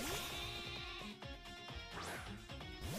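A sheep Pokémon cries out in Pokémon Sword with repeated wavering bleats over game music, fairly faint, with a brief rising whoosh partway through.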